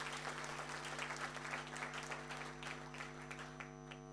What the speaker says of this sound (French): Applaudissez pour ce monsieur